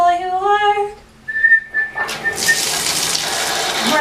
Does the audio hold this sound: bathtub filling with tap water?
yes